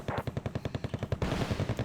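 Rapid bursts of jet cannon fire from F-5 aircraft in the war game Wargame: Red Dragon, a loud, steady stuttering rattle of shots followed by a noisier, rushing volley.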